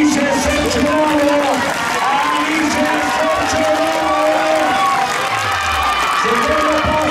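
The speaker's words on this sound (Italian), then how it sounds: "applauso per Alice Sorcio" Stadium crowd cheering and applauding at the finish of a women's 5000 m elimination race final, a steady loud roar of voices throughout with a commentator talking over it.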